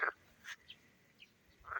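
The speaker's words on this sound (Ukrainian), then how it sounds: "Жаби як співають." Frogs croak in a garden pond, a couple of short calls at the start and end with fainter croaks between, fairly close against quiet background.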